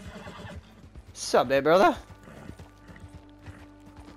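In the video game Red Dead Online, a horse lets out a loud, shaky neigh in the middle, surrounded by soft hoof clops and mechanical creaks, with someone speaking briefly.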